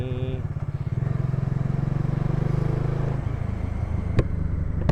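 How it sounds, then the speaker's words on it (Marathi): A motorcycle engine thumps along on a ride in rapid, even pulses at close range, loud and rhythmic, with a brief rev change near the end and a little talk faintly present. "गाडीचा आवाज कसला वाटतंय. धक धक धक धक धक धक धक धक असं येतं"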